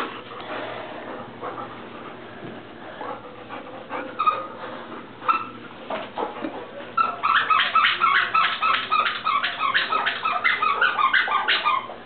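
A shelter dog at a humane society pants and whimpers in quick, rhythmic bursts, close and fairly loud, with soft yips mixed in and the panting growing steadier toward the end.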